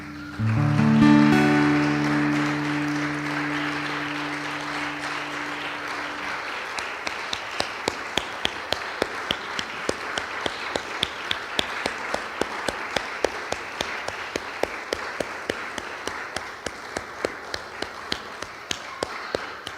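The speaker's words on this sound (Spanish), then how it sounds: "Dale un aplauso." Church congregation clapping at the close of a Spanish-language worship service, starting under a held sung note and organ chord, then a sustained crowd applause that thins into scattered, rhythmic claps keeping a steady beat toward the end.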